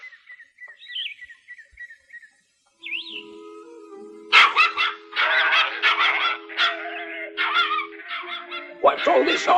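A video game dog barks in a string of loud yips and barks, mixed with chirpy electronic game tones and sustained synthetic notes, with short gaps between.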